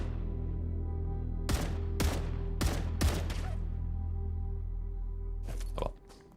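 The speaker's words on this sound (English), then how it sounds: "like a rifle, like a sniper of some kind" Sniper-style rifle gunfire in the sci-fi game Star Rupture: four sharp, loud cracks spaced about a second apart over a steady low game hum, followed by a couple of fainter shots near the end.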